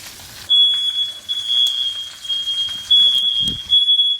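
Smoke alarm sounding during cooking, a piercing steady high-pitched tone that stutters on and off over faint background noise, with a brief low thump near the end.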